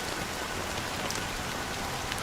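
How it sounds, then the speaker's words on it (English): Steady rain falls continuously, an even, close hiss of drops with no other sounds. "But it's still raining."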